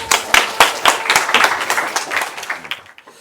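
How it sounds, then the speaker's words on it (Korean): Close, loud clapping from a small audience welcoming a company CEO to a lecture, starting with sharp distinct claps that blend into a brisk patter and then fade out toward the end. "힘찬 박수로 환영해 주시기 바랍니다."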